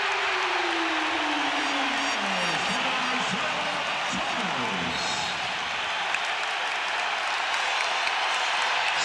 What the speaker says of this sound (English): Here comes the crowd.